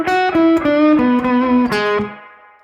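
An electric guitar plays a short minor pentatonic lick in B, a quick run of distinct picked notes with a slightly driven tone, ending on a sustained note that slowly rings out.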